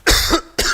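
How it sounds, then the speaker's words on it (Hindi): A single short, harsh cough comes close and loud, followed by a brief second burst, with no talk around it. "खांसी जबरदस्त तो नहीं"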